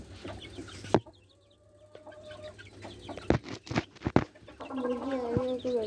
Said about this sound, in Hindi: ये इसके बच्चे, ये ब्राउन वाले के, ये वाले के मुर्गी है ना।